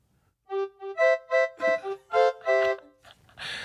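A Roland AX-Edge keytar playing patch 710 sounds a run of bright synth notes in a rising and falling melodic phrase, ending in a short noisy burst, heard alone and close.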